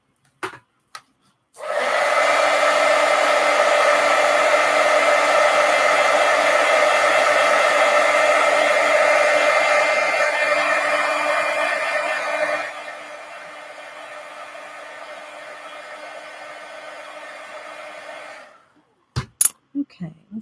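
A hair dryer blows steadily on watercolor artwork, loud and close, then drops to a lower setting partway through before clicking off, with brief handling knocks at the start and end.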